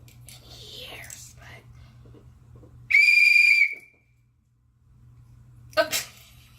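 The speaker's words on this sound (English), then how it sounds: "Blow into the whistle and pay attention to the sound it makes." A shrill, steady whistle blast lasting under a second, loud and close, after some quiet background hum and breathy noises, followed by a short rustle.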